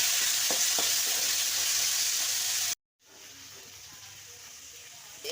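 Mourala fish fry in hot mustard oil in a kadai, giving a loud, even sizzle with faint clicks that cuts off abruptly, followed by a much quieter hiss.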